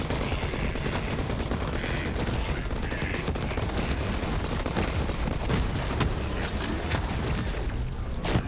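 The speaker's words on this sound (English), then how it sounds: "It does like these random explosions." Continuous rumbling blasts and crackling bursts from Borderlands 3 gameplay overlap into a dense, loud barrage, with sharp pops scattered throughout.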